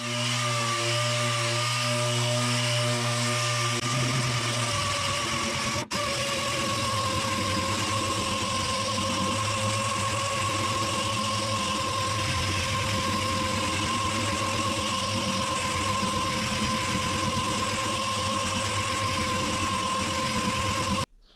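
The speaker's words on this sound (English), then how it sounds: "First of all, I'm just going to DA sand the larger part of this panel." A DA (dual-action) sander runs on primer over a car body panel, giving a steady whirring drone with a constant high tone that continues almost unbroken at close range, with a brief lower rumble at the start.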